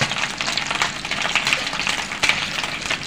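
Pumpkin slices seasoned with salt and pepper fry in a pan, a loud, close, continuous sizzle with crackling pops and a few stirring scrapes.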